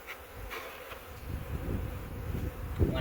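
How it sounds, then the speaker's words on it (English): A faint, steady buzz from a few honeybees near the bottom board of a hive during a March inspection, continuous and low-level with no talking. "There's a few bees down below"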